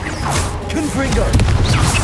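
The Confringo fire spell is cast in the video game Hogwarts Legacy, a dense burst of whooshing, crackling magical impact noise in the middle of a busy fight, with a voice calling out spells over it.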